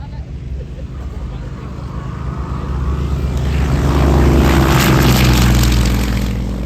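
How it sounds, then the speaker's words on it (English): A Yak-52 aerobatic plane's radial engine drones, swelling louder as it passes nearby, then holding a strong, steady roar. "I'll let you listen to the Yak-Fifty-Two."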